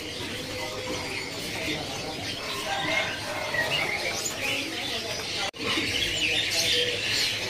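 Small birds, including deco mini finches and bondol, chirping inside a bird shop kiosk, a busy continuous layer of high twittering calls with shop noise and nearby voices underneath.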